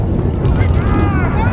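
Space Shuttle Discovery's rocket liftoff on mission STS-133 makes a loud, dense rumbling roar buffeted by wind noise, heard as a brief continuous blast with voices faintly underneath.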